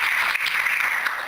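A church congregation applauds during an evening service, a dense, even wash of clapping that holds steady for a moment with no speech over it.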